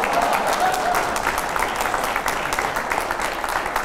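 A studio audience at an Indian political debate show breaks into loud, dense applause that holds steady for a few seconds without fading.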